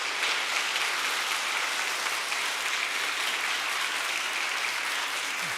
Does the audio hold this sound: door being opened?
no